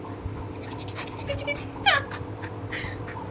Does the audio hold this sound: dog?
yes